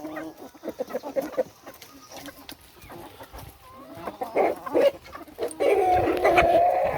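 Chickens cluck and squawk in scattered bursts, growing louder and more agitated toward the end, with a rooster-like call near the close.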